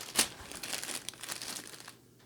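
Game counters being handled in a plastic bag: a sharp crinkle at the start, then a run of softer rustling and crumpling close up, fading to quiet at the end.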